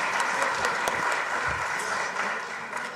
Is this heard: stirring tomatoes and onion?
no